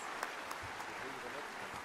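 A crowd at a town award ceremony in France claps in a brief, even patter, with a voice speaking over the applause.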